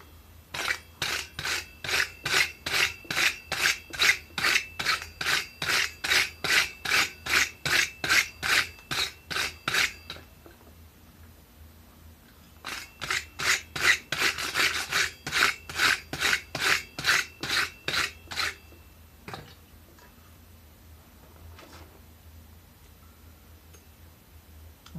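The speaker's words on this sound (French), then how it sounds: "Un bon coup de brosse." A wire brush scrubs freshly forged metal at a forge in two bursts of fast, regular back-and-forth rasping strokes, loud and close, with a short quiet gap between them and no talking.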